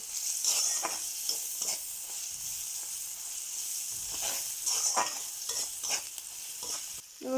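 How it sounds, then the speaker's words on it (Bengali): Turmeric root mixture is stir-fried in a pan for a prawn and bottle-gourd-peel fry, giving a soft, continuous sizzle broken by irregular scraping stirs of the spoon. It is fairly quiet and close, with no talking. "সবগুলা ভালো করে মিক্সিং করে ভেজে নেওয়া হচ্ছে"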